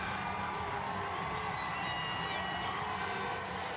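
A stadium crowd at a Dodgers championship parade gives a sustained ovation for a guest as he rolls along the warning track, a dense, steady roar of distant cheering and shouting.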